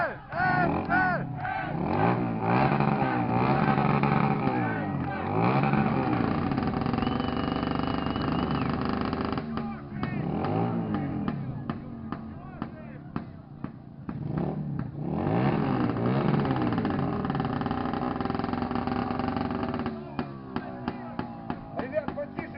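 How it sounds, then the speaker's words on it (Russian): Loud motorcycles with very loud exhausts rev again and again in rising and falling sweeps, mixed with a crowd chanting and shouting nearby, and a few sharp bursts near the end. "потише, пожалуйста, заглушите мотоциклы"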